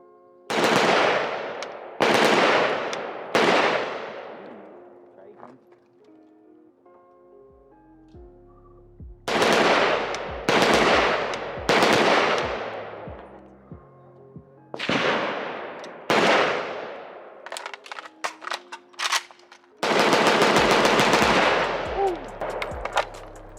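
Rapid bursts of gunfire from a PSA Spiker AK-type rifle, similar to a Type 56, ring out loud and close in several quick strings separated by short pauses, with sharp cracks and echoing tails and no talking.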